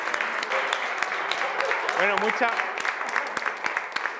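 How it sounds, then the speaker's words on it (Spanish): An audience claps at the close of a collaborative networking session, giving steady, scattered applause while someone speaks over it. "Ya un aplauso."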